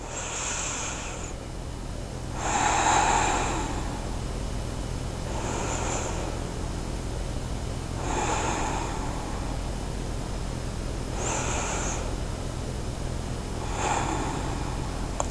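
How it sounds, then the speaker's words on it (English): Slow, deep yoga breaths drawn in and pushed out during a yoga-for-golf session, about six long airy cycles spaced a couple of seconds apart, close to the microphone over faint background hiss. "Continue to breathe here."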